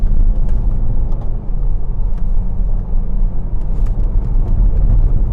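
Steady, loud low-frequency road and engine rumble from a BMW 320d F31 diesel estate cornering on a country road, a continuous in-cabin drone without pauses or clear gear changes.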